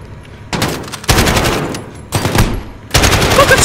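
An AK rifle in Call of Duty Modern Warfare fires in several loud, close automatic bursts separated by short pauses.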